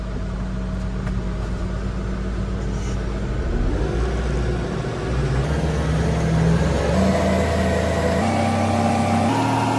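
A TYM T1104 tractor engine runs steadily in low range gear, a loud continuous diesel drone that shifts pitch slightly partway through without pausing.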